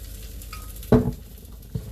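Tofu fries in oil, crisping up, with a quiet steady sizzle and a couple of sharp bursts as it is stirred or shifted, no voices.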